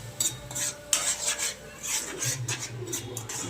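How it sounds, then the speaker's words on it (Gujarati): Ridge gourd sautéing in a pan, a spatula scraping and stirring the pieces in steady rasping strokes, close and continuous. "પછી એને થોડી વાર પાછું સાંતળવાનું."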